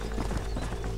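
Horse hooves clip-clopping steadily in Red Dead Redemption, a quick run of close, even hoof strikes with a brief whinny-like tone over a low, busy game backdrop.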